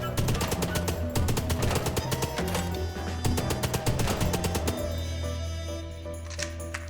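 Rapid bursts of machine-gun fire from a drum-magazine weapon in the Chicken Police video game, dense repeated shots running for several seconds, then tapering into quieter, sparser sounds near the end.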